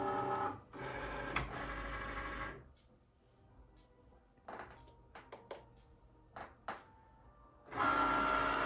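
A Cricut cutting machine with a fine point blade slices two hearts from light pink material on a mat, giving bursts of mechanical whirring and short motor movements separated by quiet pauses, close and moderately loud.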